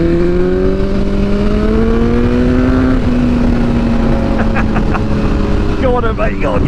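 A 2022 BMW S1000R motorcycle engine revs loudly and close by, holding a steady droning pitch before climbing and dropping between throttle blips.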